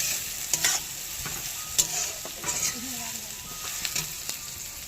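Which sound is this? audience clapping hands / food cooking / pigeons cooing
food cooking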